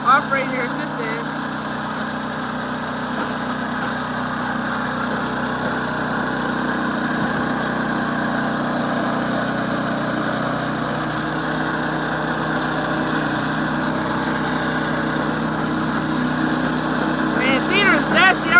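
A Woodland Mills HM122 sawmill cuts through cedar with a steady engine drone that holds at an even, moderate level throughout, rising slightly near the end.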